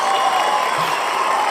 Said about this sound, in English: The crowd have gone wild.